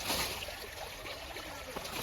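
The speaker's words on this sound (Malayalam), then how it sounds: "വെള്ളച്ചാട്ടം" A small waterfall pours in a steady, broad, hissing rush of flowing water, close and continuous, with no voices.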